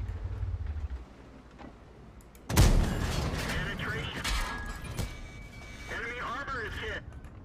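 A tank gun fires in World of Tanks, a sudden heavy boom followed by a rumbling, rolling decay and engine noise, with Korean voices talking urgently before and after the shot.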